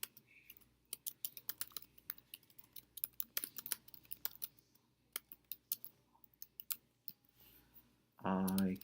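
Rapid irregular clicking of a computer mouse at a desk, sharp close taps in quick bursts spread across the stretch, ending in a short louder burst of noise.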